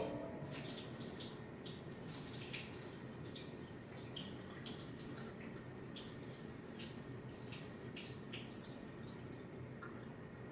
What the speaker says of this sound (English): And let's pour out some of this whey.